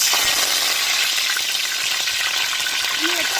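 Mustard seeds, urad dal, cumin and curry leaves crackle and sizzle in hot oil for potato rice, a loud, steady, dense frying hiss throughout with no speech.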